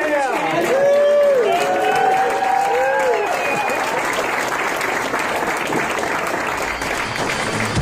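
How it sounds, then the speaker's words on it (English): Audience at the Anarchapulco 2019 festival stage applauding and cheering for Louise, a loud, dense wash of clapping with crowd noise, while a voice talks over the first few seconds. "can we please give a round of applause for Louise?"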